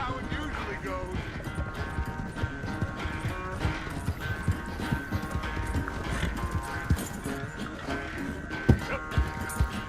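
Horse hooves clip-clop steadily in Red Dead Redemption 2, a continuous rhythmic gait mixed into dense game sound and music.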